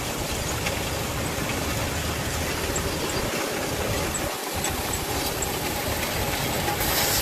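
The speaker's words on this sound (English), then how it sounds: "We are on the canola planter." A canola planter working in a field, a loud continuous mechanical rumble and rattle with a steady drone, close and unbroken.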